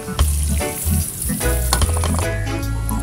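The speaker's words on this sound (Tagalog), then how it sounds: "Naggisa na ako ng bawang," Garlic and onion sauté in a pan in a loud, close, continuous sizzle with sputtering crackles, under a low rumbling hum, no talk.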